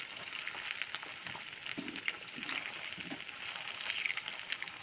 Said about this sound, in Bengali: এক পাশ ভাজা ভাজা হয়ে গেছে, আমি উল্টিয়ে দিচ্ছি সবগুলো